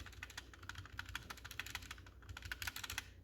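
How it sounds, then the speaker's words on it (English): Steady typing on a HyperX Alloy Origins 60 mechanical keyboard, with rapid clacky keystrokes and a clacky spacebar, close up and fairly quiet, no voices. "The spacebar is a little clacky,"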